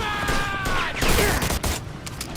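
Gunfire crackles through a Mafia II shootout, a dense mix of shots and impacts over game ambience, with a brief voice line near the start.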